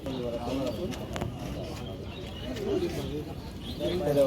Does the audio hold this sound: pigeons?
yes